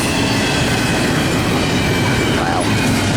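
A long Norfolk Southern 204 intermodal freight train rolls past near the tracks at Magnolia, giving a loud, steady roar of wheels and cars with faint clickety-clack and a brief wheel squeal.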